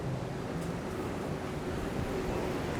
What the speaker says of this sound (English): Whoa, it's very windy.